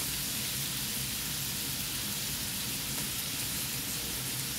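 Garlic sautéing in a pan for pancit canton and sotanghon guisado, giving a steady, even hiss of sizzling oil that stays constant throughout with no voices.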